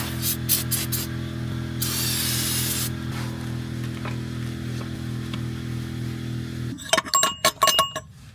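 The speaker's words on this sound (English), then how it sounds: "I gotta blow all the gunk out of there" Compressed air hisses in one strong burst of about a second, blowing built-up gunk out of the bellhousing of a totaled BMW G80 M3. A steady low hum runs beneath it, and a quick run of metallic clinks follows near the end.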